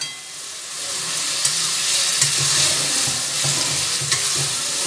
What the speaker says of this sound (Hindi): और कुछ ग्रीन चिल्ली है, कटे हुए हैं ये, पहले से मैंने काट के रखे हैं इसे, अच्छे से इन्हें भून लेना है अभी